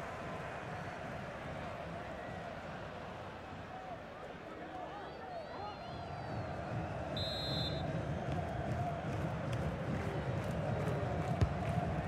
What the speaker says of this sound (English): The crowd are certainly playing their part.